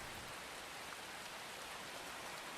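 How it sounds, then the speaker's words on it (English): Rain falls steadily as a dense, even hiss with no break or change, unbroken by any other sound. "This day, it has regretfully been raining since morning."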